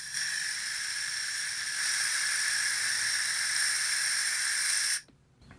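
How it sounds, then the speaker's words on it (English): Compressed air hissing out of a pressure pot in a workshop, a steady loud rush lasting about five seconds that cuts off abruptly into near silence. "it's time to let the air out of the pot"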